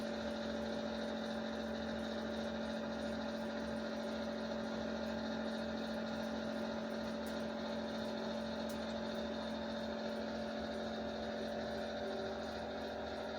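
A model train locomotive fitted with a Marks motor runs with a continuous steady electric hum and faint mechanical whir, alone and even in level throughout.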